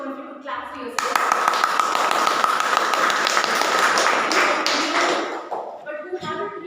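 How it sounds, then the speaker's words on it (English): A Toastmasters club audience breaks into applause, many hands clapping together in a dense, sustained burst for several seconds before tapering off, with a speaking voice before and after. "So I want each one of you to clap for yourself."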